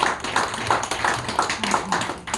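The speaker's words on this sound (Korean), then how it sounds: "우리 박수로 맞아주시면 감사하겠습니다." Rhythmic group clapping at a Korean church gathering, steady beats in unison filling the room, welcoming performers to the front.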